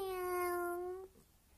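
A single sustained meow-like cry, loud and close, about one second long with a steady pitch, followed by quiet room tone; it could be a human voice imitating a cat.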